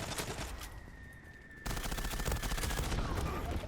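Rapid automatic gunfire in the online shooter Zula, a brief quieter stretch and then a loud, dense continuous burst, with someone talking faintly over it.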